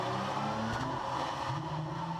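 Loud, steady engine roar and drone from Paul Newman's Nissan 300ZX race car during qualifying at the 2014 Monterey Historics, heard close up from inside with no voices.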